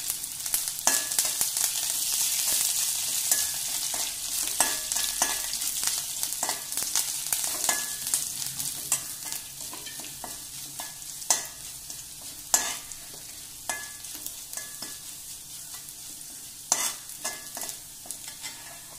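Garlic, ginger and curry leaves frying in a pan while a spoon stirs them, a continuous sizzle broken by repeated scraping clicks that gradually quiets.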